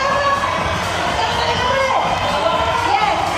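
A Japanese crowd at a climbing competition cheers and roars steadily, with no breaks, while a commentator talks over it.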